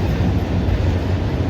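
A freight train runs off a cutoff track that bypasses Burlington and Madisonville, Kentucky, a steady, heavy low rumble that fills the whole moment without a break.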